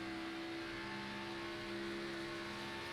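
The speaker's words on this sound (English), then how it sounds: "You can hear they're working the throttle a little bit now." An onboard stock truck engine during an ARCA-style oval race at Charlotte holds a steady tonal drone as the throttle is worked into a corner, fairly faint and even, with no speech over it.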